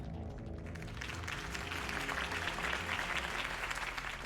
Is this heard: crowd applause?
yes